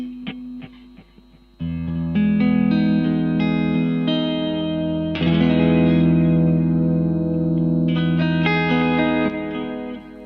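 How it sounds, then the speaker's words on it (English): Guitar through a Crazy Tube Circuits PHI Golden Ratio compressor pedal, sounding sustained chords with evened-out picked attacks and some reverb, a few muted plucks first, then ringing strums alone without any talking. "You can hear on the attack of the pick how much compression there is."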